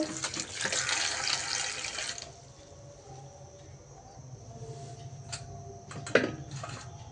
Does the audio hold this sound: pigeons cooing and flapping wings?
no